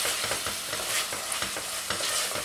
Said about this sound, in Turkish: Şöyle karıştırıyorum. tamamen kavrulması bu kadar yeterli olacaktır.